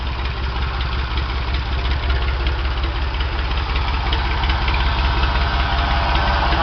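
Ford 335 industrial tractor engine idling at its first start after an in-frame rebuild, a steady, loud, low chugging rumble with an even knocking pulse and no voices.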